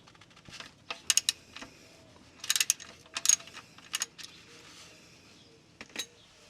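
Socket ratchet clicks in short irregular bursts while loosening the oil pan drain plug on a 2007-2011 Toyota Camry Hybrid, close and fairly quiet against a faint background.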